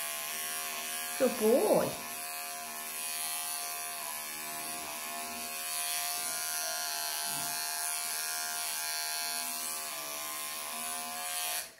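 Electric clippers buzz steadily through a matted pelt on a longhaired cat during a belly clip, a continuous close motor whine with brief louder bursts early on and a short spoken phrase over it.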